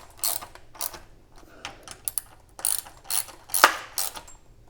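A hand ratchet clicks in short bursts while retightening the tail bolts on a Yamaha MT-07 motorcycle during a tail tidy install, with sharp metallic ratcheting strokes repeated several times and no talking.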